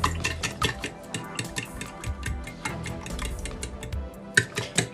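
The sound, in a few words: mixing milk and sugar in a plate with a spoon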